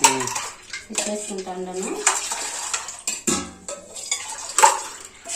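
A spoon clinks repeatedly against a steel vessel while two spoons of sugar go into ragi malt. Close, irregular metallic taps and scrapes come with brief speech.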